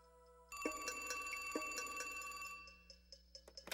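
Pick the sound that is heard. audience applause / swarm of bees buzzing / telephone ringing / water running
telephone ringing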